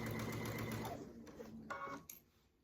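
Sewing machine stitching sashing strips into the middle rows of a quilt, a steady close whir for about a second that slows and stops, followed by faint handling clicks.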